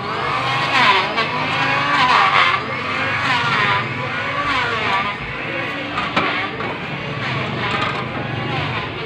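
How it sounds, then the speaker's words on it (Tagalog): A car passes close by on the street, engine and tire noise swelling and fading in loud rushing waves, mixed with voices of people talking nearby. "Ayun ang sasakyan, oh."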